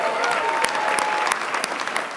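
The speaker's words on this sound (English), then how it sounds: "Can we give them another round of applause?" Steady, dense applause from a large audience at a televised film and television awards ceremony in Glasgow, continuous clapping filling the hall without speech.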